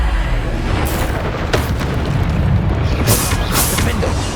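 Loud, dense magical explosions from the Bombarda blasting spell in Hogwarts Legacy, several booming bursts and pops in quick succession over a constant roar of combat noise.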